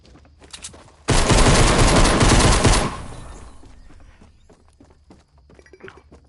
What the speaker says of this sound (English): And I just got wrecked by a pistol.